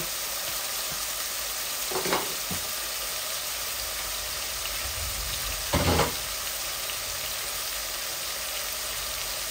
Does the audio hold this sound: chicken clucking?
no